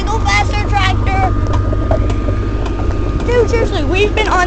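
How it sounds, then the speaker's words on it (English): A low, steady tractor engine rumble carries through a festive cart ride, partly buried under several people chattering and calling out close by. "Go faster, tractor."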